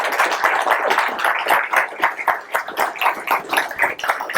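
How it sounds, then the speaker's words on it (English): Audience at a swear-in ceremony clapping in a steady burst of applause, many hands close and lively, with the clapping rising and dipping slightly across the room. "please a round of applause for our command"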